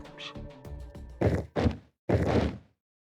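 Characters collapse asleep in the video game Zero Time Dilemma. A few soft tonal notes lead into a quick series of heavy, dull thuds, loud and close, with brief gaps between them.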